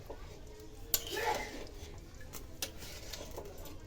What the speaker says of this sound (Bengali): এখন আমি এর মধ্যে আলুগুলো দিয়ে দিচ্ছি, আবার একটু নেড়ে দিচ্ছি।